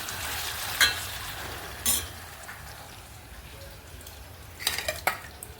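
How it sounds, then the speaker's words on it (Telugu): Onion pieces with a quarter spoon of turmeric fry in a pan for taro-root pulusu: a soft continuous sizzle with a few sharp utensil clinks and scrapes against the pan. "ఒక పావు స్పూన్ పసుపు వేసేసుకొని ఉల్లిపాయ ముక్కల్ని చక్కగా వేగనివ్వాలి"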